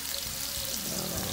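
Pork stir fry with ginger and spring onions frying in hot oil in a pan, giving a steady close hiss and crackle that carries evenly throughout.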